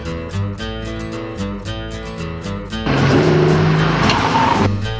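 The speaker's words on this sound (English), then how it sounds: "It looks like a beater, but it has an LS1 out of a 2000 Corvette." A 1955 Chevy wagon running a Corvette LS1 V8 from a 2000 model, its engine heard under music and then swelling into a louder, rougher surge of revving partway through.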